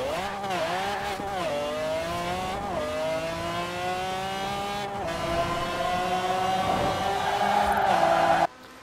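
A race car of over 2,000 horsepower accelerating hard in the racing game Forza Horizon 4, its engine note climbing steadily through several gear shifts, loud and close, then cutting off abruptly at the end.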